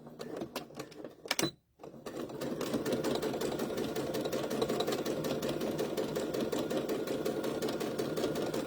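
A sewing machine stitches around the neckline of a fabric baby bib, starting with a few short bursts and a pause, then running in a steady, close, continuous rapid whir.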